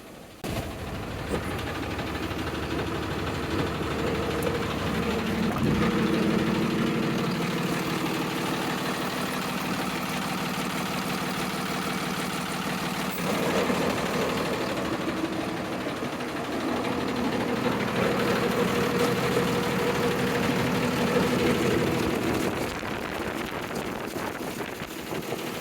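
A 2016 Freightliner cab chassis truck with 185,000 miles idles steadily with a low diesel rumble, continuous and close, with faint shifts in tone partway through.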